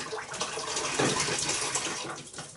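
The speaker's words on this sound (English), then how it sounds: "Nigel was actually swilling it out then with clean water" Clean water sloshing and swilling inside a plastic cider brewing vessel in a kitchen sink, a steady close gushing wash with rising and falling splashes, no talk.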